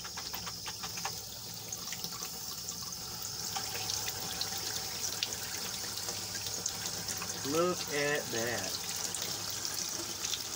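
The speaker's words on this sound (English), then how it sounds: "we're gonna turn on some water and make sure the shower's off so we don't get this wet." Water running from a bathtub faucet in an older bathroom, a steady hiss of flowing water throughout, with someone speaking briefly over it near the end.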